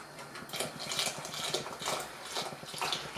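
A mixture being poured into nearly boiling milk in a pot for a no-bake karpatka cake, with steady liquid splashing and a string of soft clicking knocks from the pot or spoon.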